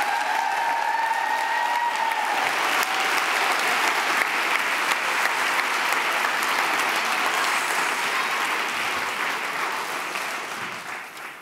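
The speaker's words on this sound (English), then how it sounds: "Please give these amazing women a rousing round of applause" A crowd at the Women at Sundance celebration gives a loud, sustained round of applause for women supporters; a brief voice opens it, then thick clapping continues and slowly tapers near the end.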